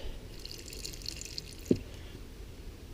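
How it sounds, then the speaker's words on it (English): Water is added gradually to a mix, heard as a faint trickle with soft drips and one sharper splash midway, with no voices. "we're just going to add the water gradually"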